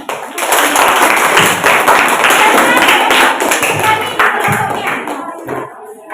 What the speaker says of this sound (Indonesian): beri tepuk tangan dulu untuk kelompok kucing